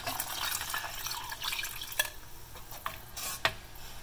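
Water pours steadily into a cooking pot for cumin pepper rasam with a hissing, splashing rush, punctuated by a few sharp drips and light knocks.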